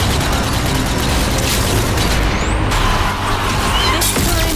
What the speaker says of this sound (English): Some grenade throwing.